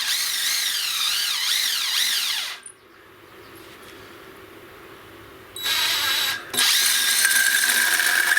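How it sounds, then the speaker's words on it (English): A power drill with a pilot bit cuts a notch through a 2x4 wood stud, giving a loud, close, wavering whine. It cuts out for a few seconds of near quiet, then bursts back in at full speed. "you can just drill right into your pilot and just leave it there and just go ahead and cut your notch right through while you're also cutting that 2x4"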